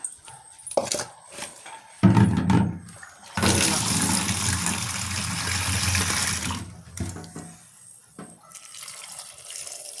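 Water gushes from a tap into a salted cooking pot in a loud, sustained burst lasting a few seconds, framed by quieter kitchen clatter and short splashes.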